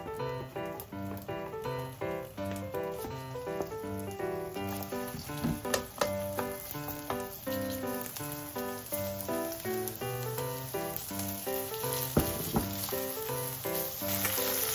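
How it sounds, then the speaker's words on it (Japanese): Pork belly and burdock coated in potato starch shallow-fry in plenty of salad oil, a steady sizzle running underneath louder background music throughout. "多めのサラダ油で揚げ焼きします"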